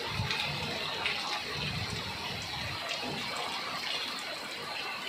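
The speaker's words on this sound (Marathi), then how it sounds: "इकडं तर लय वार आहे बाबा, अफाट" Strong storm wind roars and rushes continuously in the evening outdoors, a loud broadband gusting that fills the whole scene without letup and with no talk.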